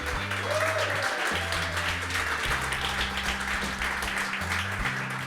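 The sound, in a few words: applause for the band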